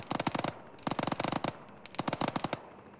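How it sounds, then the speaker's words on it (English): Machine-gun fire during a gun run in the ArmA military video game, three rapid bursts of loud, sharp automatic shots, each about half a second long with short gaps between. "Doing a gun run there."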